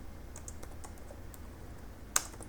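Computer keyboard being typed on while writing code, a few soft, close key taps spaced irregularly over a quiet background, ending with one sharper click.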